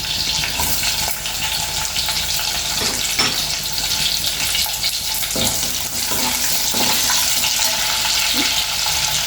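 Garlic and onions fry in hot oil in a pan while tomato charu is being cooked, a loud, steady sizzle with occasional stirring clinks, with no voices.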